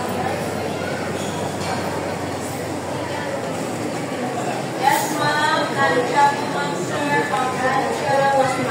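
MRT metro train riding through Manila, a steady rolling rumble and hiss inside the car with a few brief squeals and clatters, and people talking faintly over it.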